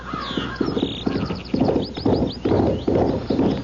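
Steady clip-clop of horse hooves in a 1970s radio mystery drama, a regular rhythm of close, crisp hoof beats on a hard surface, running alone without talk.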